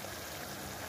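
Potato curry simmers in a pan with water added, giving a faint, steady, close crackle of small bubbles like light rain, with no voices.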